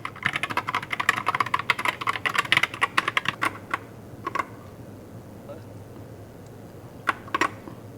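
Typing on a DIERYA DK61E wired 60% mechanical gaming keyboard: a fast burst of close, clicky keystrokes for a few seconds, then scattered single presses and short clusters.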